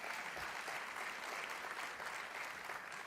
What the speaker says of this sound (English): we give him a big round of applause